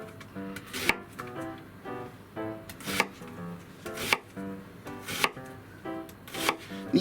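A knife chops an onion on a cutting board, cutting across the grain: a steady run of sharp, close knocks at an uneven but regular pace, alone with no talk.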